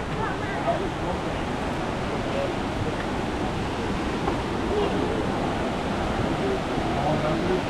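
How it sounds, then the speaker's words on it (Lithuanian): A waterfall on the island of Dominica, a constant broad rushing roar of falling water, steady and unbroken without voices. "Na va, prie krioklių."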